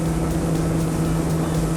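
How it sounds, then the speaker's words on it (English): A 2025 Axopar 25 Cross Top motorboat cruises at about 42 knots, its engines giving a loud, steady droning hum with rushing wind and water noise, close and unbroken, with no voices. "we are cruising along at 42 knots, getting 2 miles per gallon"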